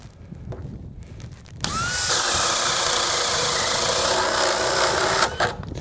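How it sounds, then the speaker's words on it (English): A DeWalt cordless drill spins up sharply and bores a hole in cold conditions, a loud, steady whirring run of about four seconds that cuts off abruptly, preceded by faint handling noises. "When we drill this hole, it's gonna fly through it just like it had when it had 2 bars on it"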